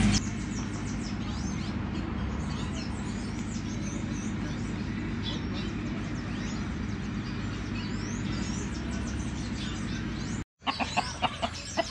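Several chickens cluck and chatter over a steady low hum, with roosters and hens close by and a brief break near the end.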